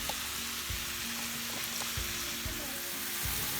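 Chicken and bacon stuffing sizzles and fries in a pan, a close, steady crackling hiss with occasional soft stirring knocks throughout.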